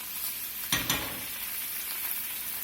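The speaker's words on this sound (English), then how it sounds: "I'm going to put a little bit of wine in there, a little white wine." A splash of white wine hits a hot pan of seared salmon, giving a sudden burst of sizzle that settles into a steady hiss as it reduces, close and alone without talk.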